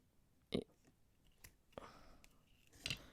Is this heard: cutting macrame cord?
yes